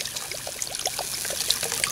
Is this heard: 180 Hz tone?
no